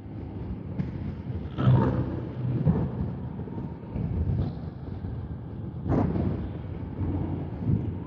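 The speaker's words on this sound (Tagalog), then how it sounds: "Lakas pala ng hangin." Strong wind buffets the microphone during a motorcycle ride, a steady low roar that swells in gusts throughout with no speech.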